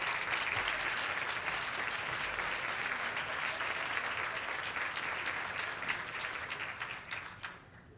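Audience applause fills a room at a Women's History Month awards luncheon, a dense steady clapping that holds loud and even before thinning and fading out near the end.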